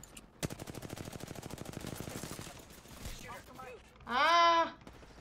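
Rapid automatic gunfire in an online battle royale shooter, a steady stream of shots lasting about two seconds, then sporadic game sounds and a loud synthetic tone burst near the end.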